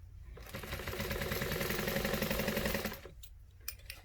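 A sewing machine stitches a Nathalie bag in one loud, rapid, rhythmic burst lasting a few seconds, then stops, leaving a pause broken by a couple of soft handling clicks.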